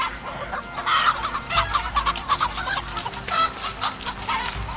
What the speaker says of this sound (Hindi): ले मुर्गी पकड़ रहा है।